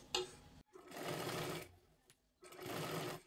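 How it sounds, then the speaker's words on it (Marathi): A sewing machine stitches a seam on a blouse in two near, steady runs of whirring, separated by a short pause. "त्याच्यावरतीच पुन्हा एकदा एक शिलाई मारून घ्यायची आहे"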